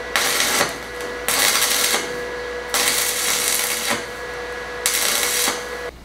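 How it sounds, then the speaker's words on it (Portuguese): Stick welding tack welds with a 2.5 mm electrode at 110 amps on a homemade steel bench vise: four loud, steady crackling bursts of about a second each, separated by short pauses, with a faint steady hum underneath. "Vou iniciar o ponteamento aqui com 110 amperes"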